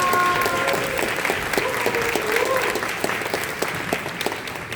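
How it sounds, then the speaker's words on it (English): An audience at an education summit panel claps steadily for the panelists, a dense round of applause with some voices talking faintly underneath. "Let's give our panelists another round of applause."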